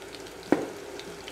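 Sliced tomatoes sautéing in a pan with the base ingredients, a steady soft sizzle broken by two brief scraping stirs, close and fairly quiet with no talking.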